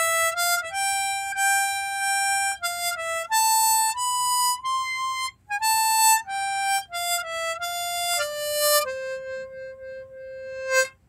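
A harmonica plays a melody alone, a steady run of sustained reedy notes with short breaks between phrases, close and clear, ending on a long held low note.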